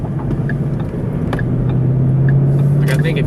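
A 2013 Ford Mustang GT CS with a manual gearbox pulls away, its engine droning steadily and building slightly in pitch, heard close from inside the cabin.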